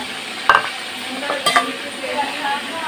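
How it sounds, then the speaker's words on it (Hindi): A spoon stirs a tamarind mixture in a pot on the stove for degi pulao, giving a few scraping knocks over a faint sizzle, close and fairly quiet, with no talking. "चम्मच मैंने 2-3 मरतबा चला लिया"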